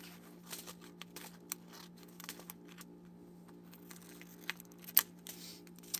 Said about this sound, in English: First I'm going to cut them apart.